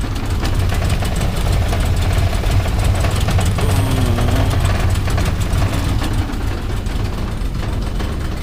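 A motor idles steadily and loudly with a rough, even chug, continuing unchanged throughout with no talking.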